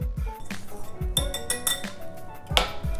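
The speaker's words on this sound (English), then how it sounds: "all the baking powder, baking soda, and salt. And then you just whisk it together." Baking powder, baking soda and salt are whisked together with flour in a bowl, the whisk tapping and clinking against the bowl in quick irregular strokes, close and fairly quiet.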